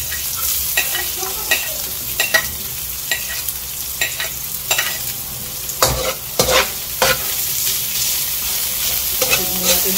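Onion and garlic sautéing in a pan for ginisang monggo, a steady close sizzle under repeated scraping stirs of a utensil against the pan, with no talk.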